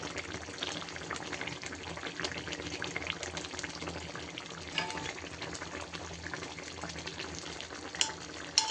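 Surma sea fish frying with tomatoes in a pan, a steady soft sizzle and bubbling that goes on without a break, with a few clinks near the end.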